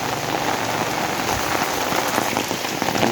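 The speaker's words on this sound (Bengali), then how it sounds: "আজকে সকাল থেকে প্রচণ্ড হারে বৃষ্টি হচ্ছে" Heavy rain pelting a road, a loud, dense, close hiss of drops hitting the surface, unbroken throughout with no voices.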